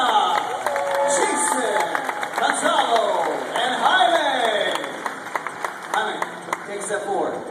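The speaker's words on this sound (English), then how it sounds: "audience, keep your applause going" Studio audience applause and cheering for contestants on a stunt game show, a sustained crowd clatter of clapping with whoops, under an announcer's talk.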